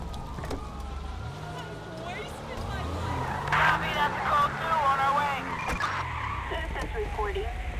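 Car engine revving and tires skidding in Grand Theft Auto V, a steady close rumble with rising engine sweeps and a screech in the middle, while someone talks over it.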